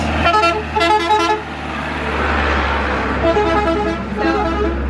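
A truck horn honks in loud repeated blasts before a corner, two at first and more near the end, over a steady engine rumble.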